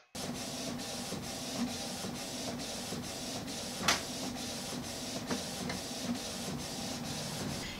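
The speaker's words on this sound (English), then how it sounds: "I'm going to send it to my inkjet printer." An inkjet printer runs through a page alone, a steady mechanical whir with regular print-head passes roughly every half second and one brief louder click midway.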